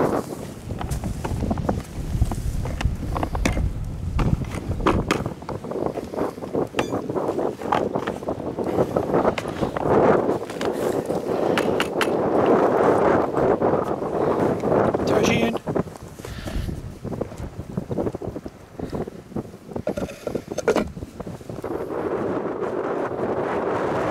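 Gusty wind buffets the microphone at a lakeside carp fishing camp in Morocco, a loud roaring rush that swells and fades throughout while someone talks.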